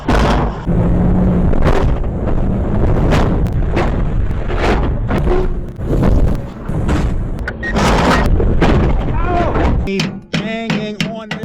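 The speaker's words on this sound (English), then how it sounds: "When you hear me banging that off-road, it's that front differential skid plate." Loud, heavy metallic bangs strike a Land Cruiser's front differential skid plate in an irregular series of impacts, followed by a short stretch of talking at the end.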